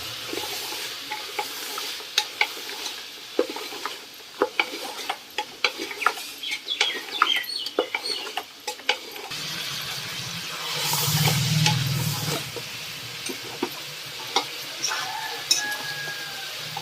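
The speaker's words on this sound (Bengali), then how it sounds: "এবার জিরে মরিচের গুঁড়ো আর ভালো করে এটাকে কষিয়ে নিতে হবে" Cumin and chili powder being stir-fried in a pan for a Bengali home-cooked lunch, giving scattered clinks and stirring scrapes over a soft sizzle, with a louder burst of frying midway.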